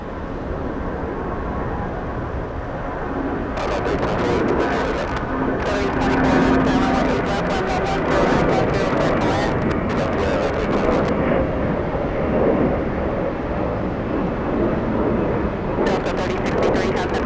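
An airliner taking off at Atlanta Hartsfield-Jackson airport, a loud sustained engine roar rumbling steadily over many seconds, mixed with wind buffeting on the microphone.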